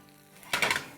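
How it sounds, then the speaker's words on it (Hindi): Sauce-coated chicken lollipops stirred in a pan, with a short burst of scraping, clinking and sizzle rising midway through and carrying to the end, nearby and moderately loud, with no voices. "बस 2 मिनट ही हिलाएंगे जब तक कि हमारा सारा के सारा सॉस जो है वो अच्छी तरह से चिकन में कोट ना हो जाए।"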